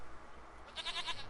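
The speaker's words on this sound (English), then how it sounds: "Goat of mine, dearest, sweetest goat." A goat in The Witcher 3 lets out a short, wavering bleat, loud and close, over a low game ambience with no talking.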